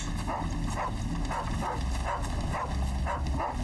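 Dog in Final Fantasy 16 barks and yips repeatedly in a steady rhythm, moderately near, over quiet game ambience.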